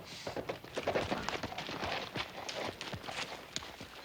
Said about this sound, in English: Little Joe, why don't you see after Miss Edwards' horse while I help her down?